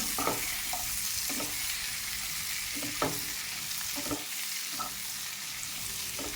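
Chopped green chillies, onion and capsicum go into a frying pan with garlic and ginger, giving a steady close sizzle with a few soft scraping stirs and no talking.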